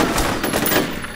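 Rapid automatic gunfire in the shooter game F.E.A.R., a brief, loud burst of closely spaced shots lasting about a second, heard alone.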